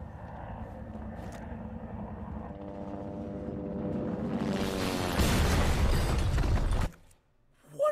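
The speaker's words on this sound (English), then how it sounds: "They just flew a helicopter into the building" In the video game Resident Evil 2 Remake, a helicopter's rotor-like engine drone builds steadily in pitch and loudness, then a loud crashing blast as it hits a building cuts off abruptly, followed by a brief quiet and another hit.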